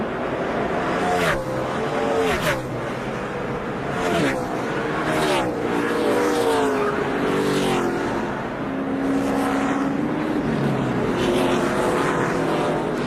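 NASCAR stock cars race in the 2004 Chevy Rock n Roll 400. Loud engines roar and rise and fall in pitch as the cars pass one after another in quick succession, with brief voice chatter mixed in.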